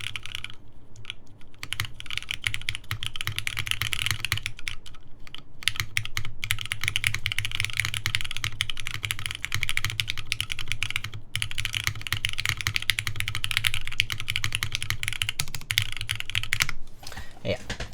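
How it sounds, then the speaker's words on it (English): Dense, continuous clacking of mechanical keyboard keys, rapid and close, with a few short pauses between bursts of typing, on a top-mount TGR Jane v2 or Unikorn keyboard. "Pretty nice keyboard."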